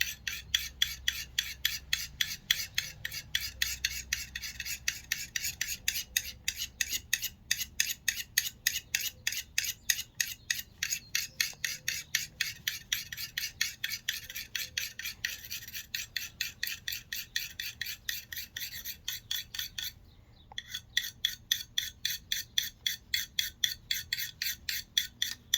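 A knife drawn back and forth across a Corona carbide sharpener, a steady rasping stroke repeated dozens of times at an even, rapid rhythm with one brief pause, close and fairly loud.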